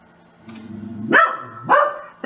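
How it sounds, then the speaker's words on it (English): A dog barks indoors at an arrival in the driveway, a low growly rumble rising into two loud, close barks and the start of a third. "That's my dog. She thinks somebody just pulled into the driveway,"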